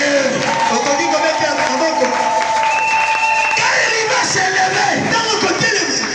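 A church congregation cheering and shouting together, a loud, continuous wall of mixed voices that holds steady throughout.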